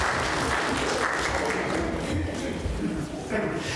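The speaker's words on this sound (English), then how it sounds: "I think that deserves a clap for all of that." A church congregation claps together, a dense patter of applause in a reverberant hall, with a voice speaking over it.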